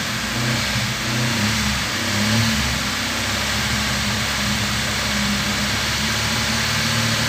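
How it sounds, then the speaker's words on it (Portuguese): Chevrolet Vectra engine running with a blown muffler, a loud, steady, throaty drone with rough low-pitched rumble and slight swells in revs, continuous and close throughout with no talking. "Tá esse barulho aí meio forte, galera, de surdina estourado, porque realmente estourou a surdina"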